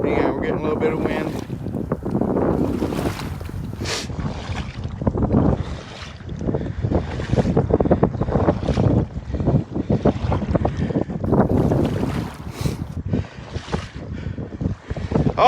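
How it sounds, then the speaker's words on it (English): Strong wind buffets the microphone outdoors near water by fishing huts, a steady roaring gust with rumbling bursts throughout, loud and continuous. "Hang on, we're getting a little bit of wind."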